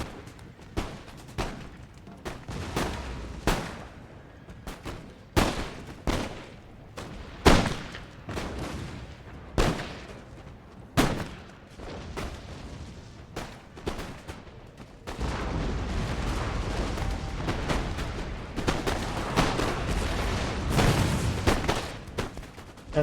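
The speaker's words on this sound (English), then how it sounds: "Kind of a big shootout here in the center." Musket volleys and artillery fire in the video game Empire: Total War, a long run of sharp, loud cracks and booms at irregular intervals that swells into a continuous roar of massed gunfire.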